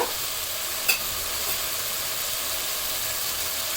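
Ground spices, turmeric among them, sizzle and hiss steadily in a hot pan for a beef curry with radish, with one sharp clink of a spoon against the pan near the start.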